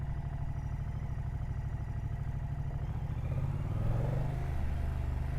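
A V-twin motorcycle fitted with Brembo brake calipers runs steadily at close range, its engine drumming with a rapid, even pulse and swelling slightly louder near the end, with no voices.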